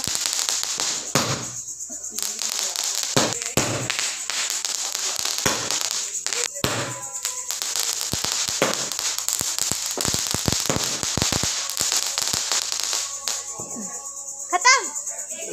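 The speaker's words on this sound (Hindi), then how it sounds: "इस बार बानी बड़े बड़े पटाखे लाई है" Diwali firecrackers bursting in a village courtyard: sharp cracks and bangs, some near and loud, others farther off, scattered irregularly throughout, with a voice and other talk in between.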